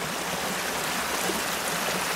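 Calabash Creek rushing over rocks in a wooded setting, a steady broadband wash of flowing water that stays close and constant throughout, with no voices.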